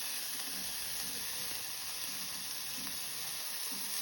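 Chopped green chili and spring onion fry in a hot pan, giving a steady, close sizzling hiss that carries on evenly throughout with faint stirring underneath.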